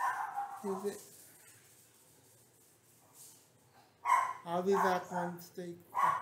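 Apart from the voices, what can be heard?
dog barking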